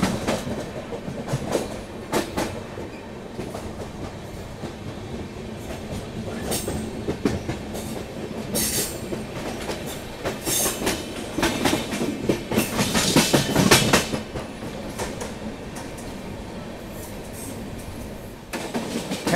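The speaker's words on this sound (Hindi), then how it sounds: "2 मिनट के हॉल्ट के बाद हम लोग निकल चुके हैं अभी कसारा रेलवे स्टेशन से।" Pushpak Express train running after leaving Kasara station on its Mumbai to Lucknow route, with banker locomotives attached for the Kasara ghats. Loud, continuous rumble with rhythmic clickety-clack of wheels, heard from onboard with no talking.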